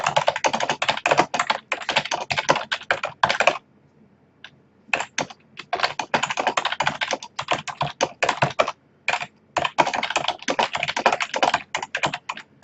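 Rapid typing on a computer keyboard, close and crisp, with dense bursts of key clicks broken by a few short pauses.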